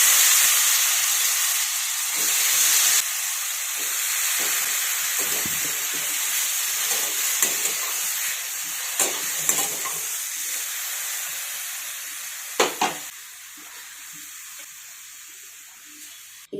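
Chopped ridge gourd pieces with red chili powder, mutton masala and cumin sizzling in hot oil, a loud steady frying hiss with occasional stirring clatters and scrapes.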